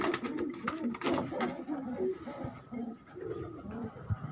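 Breeding pigeons in a loft coo in soft, repeated low throaty phrases, steady and close, with general ambient noise underneath.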